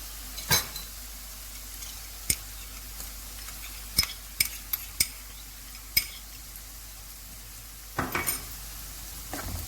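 Onions frying with ginger-garlic paste in a pan for chicken kabab karahi, a faint steady sizzle broken by several sharp clinks and scrapes of a spoon stirring against the pan, with no talking.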